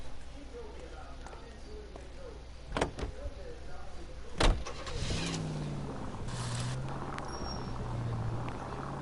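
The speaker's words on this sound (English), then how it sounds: "this is a nice car with really nice handling" A car engine drives in L.A. Noire with a low, steady hum, overlaid by people talking and a few sharp clicks and thuds.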